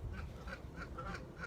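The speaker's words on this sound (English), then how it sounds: "Let's leave these geese alone." Geese near their nest in a garden give a run of six short honking calls at a steady, fairly quick rhythm, moderately close and fairly soft, with no talk over them.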